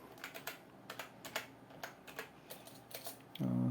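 Scattered keystrokes on a computer keyboard while a command is typed at a computer prompt, close and fairly soft, ending in a brief tonal sound.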